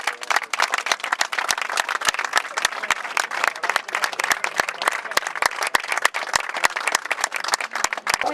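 A crowd of broadcaster staff claps loudly and steadily outdoors on an esplanade, with distinct sharp individual claps standing out from the dense applause.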